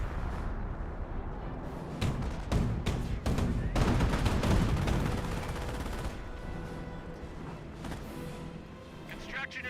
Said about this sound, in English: there's a half-track firing on you